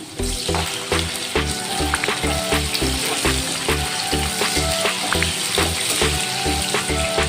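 Tomato goes into hot oil for an egg masala curry and crackles in a loud, close sizzle, with rhythmic thumping beats from background music running underneath.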